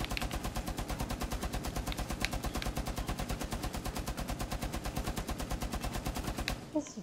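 Rapid, evenly spaced gunshots from a Rainbow Six Siege pistol duel, a steady loud stream of cracks lasting about six seconds before stopping abruptly.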